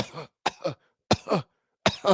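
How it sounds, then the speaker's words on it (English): Four sharp, harsh coughs in separate bursts, each close and loud, with brief silences between them and no talking. "your ass got a cough"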